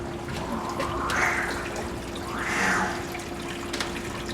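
Water runs down a freshly repaired kitchen sink drain in two soft rushing swells, steady and close, with no talk.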